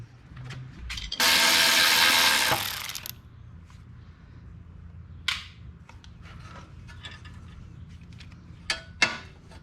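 A ratcheting tool works loose the ignition coil on a Wheelhorse 520 lawn tractor engine: one loud sustained buzzing ratchet run, then scattered sharp metallic clicks and taps close by.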